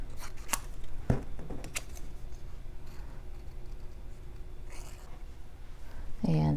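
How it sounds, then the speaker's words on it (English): Scissors fussy cutting paper flowers for a handmade hexagon card, a few short crisp snips spread across the clip over steady soft room noise with faint handling sounds. "And we'll fussy cut our flowers."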